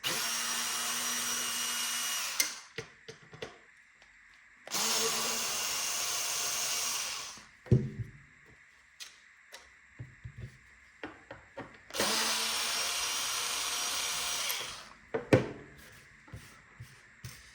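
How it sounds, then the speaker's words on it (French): An electric screwdriver whirs in three bursts of about two to three seconds each, removing two screws from an Xbox One S All Digital console, with small clicks and handling taps between the bursts. "il faut enlever ces deux vis"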